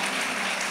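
An audience applauds, a dense continuous patter of clapping that fills the whole brief moment at a steady level.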